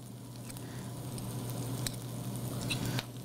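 Meatballs drop into a hot pan and sizzle in a soft, steady crackle, fairly quiet and close, with a faint low hum underneath.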